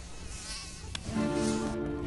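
Mosquitoes buzz in a high, steady whine in a Mortein repellent TV advert, continuous for about two seconds, with a musical tone rising underneath partway through.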